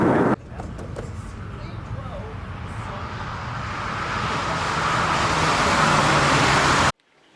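A Triumph 2500 Mk I is driven on a road with a steady engine and road roar that gradually builds as it accelerates through gears, ending abruptly.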